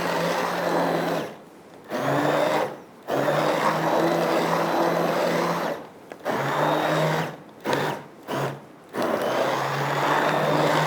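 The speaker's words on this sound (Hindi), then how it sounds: "बस प्रॉपर तरीके से इंटरवल्स में हमने इसको ब्लेंड करना है ताकि एक फ़ाइन पेस्ट इसकी बन जाए" A kitchen blender grinding a beef haleem mixture into a fine paste runs in loud, steady bursts with a droning motor whine, cut by several short pauses of near silence between pulses.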